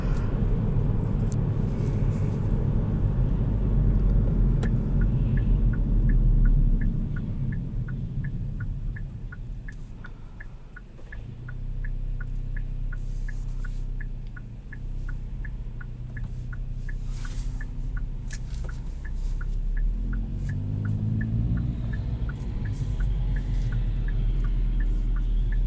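Inside a 2020 Kia Forte GT automatic on the road, a steady low rumble of engine and road noise rises and falls, with a regular soft ticking running through the middle stretch.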